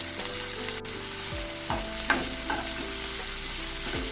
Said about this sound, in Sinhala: ඒකම සීනියට කපාගත් ලුණු ටික දාගන්න. දැන් හොඳට කලවම් කරලා